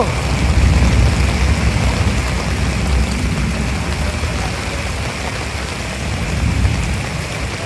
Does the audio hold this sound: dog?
no